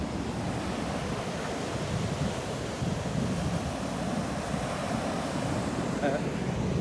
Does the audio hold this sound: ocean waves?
yes